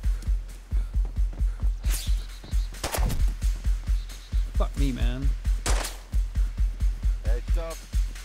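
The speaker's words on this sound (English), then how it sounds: "Why are you shooting at me, bro?" Rapid bursts of automatic gunfire in the DayZ survival game, loud and close, with sharp repeated shots in steady volleys through most of the stretch and a few brief pauses, while voices talk over it.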